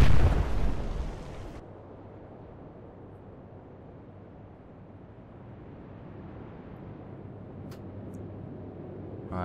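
A single heavy naval gun blast in Atlantic Fleet opens loud and booming, then fades into a long low rumble and faint sea ambience.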